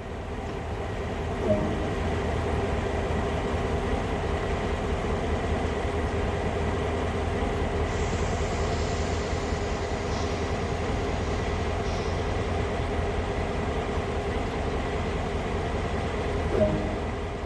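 An EMD GP38-2 diesel locomotive in Train Sim World runs at a steady, loud drone, with a continuous low engine rumble and a brief hiss partway through, and no voices.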